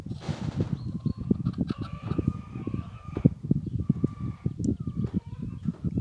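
A chicken keeping company with a quail clucks and calls close by in a rapid, uneven stream of loud bursts, with a few higher drawn-out notes mixed in.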